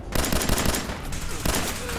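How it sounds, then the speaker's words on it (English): Rapid gunfire from a firefight in the video game Fallout 4, dense and continuous bursts across the whole stretch, loud and close with overlapping shots. "Shoot to kill!"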